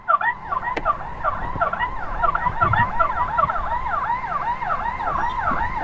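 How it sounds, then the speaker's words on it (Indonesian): An ambulance siren wailing in rising and falling sweeps on a road, heard from a motorcycle escorting the vehicle to Edelweiss Hospital, loud and steady throughout with traffic noise beneath. "Mobil dari jauh kok ada bunyi sirene."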